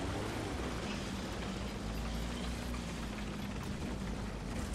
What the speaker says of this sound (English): they can probably hear my engine